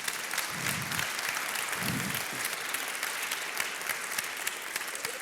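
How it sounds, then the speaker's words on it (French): An audience claps at an evening mentoring event, a broad, steady round of applause that fills the space without a break, with a few low thumps early on. "On peut vous applaudir."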